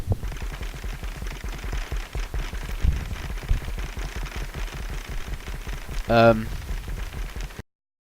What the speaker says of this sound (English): These 2 sort of small rooms are what causes the clicking and the thumping noises, and they are our generators